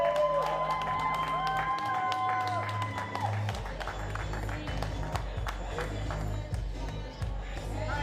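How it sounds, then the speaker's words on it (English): Crowd at the 2024 Nordic street workout championship applauds and cheers a competitor at the bar, a loose wash of clapping and voices with scattered sharp knocks and thuds, announcer talk mixed in. "Big round of applause for Gulam Rahimi"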